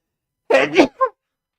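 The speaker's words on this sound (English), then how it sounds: "Hold on, I need to sneeze." A person sneezes twice close to the mic, a sharp burst followed quickly by a second, then a short, lighter vocal trailing sound.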